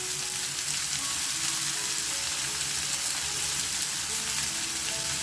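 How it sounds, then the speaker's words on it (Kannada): Onions and asafoetida sizzle in hot oil, a dense, steady crackling hiss that is close and even throughout, with no talk. "ಇದು ಚೆನ್ನಾಗಿ ಚಟಪಟ ಅಂದ್ರೆ ಸ್ವಲ್ಪ ಹಿಂಗು, ಆಮೇಲೆ ಉದ್ದ ಕಟ್ ಮಾಡ್ಕೊಂಡಿರುವಂಥ ಈರುಳ್ಳಿ"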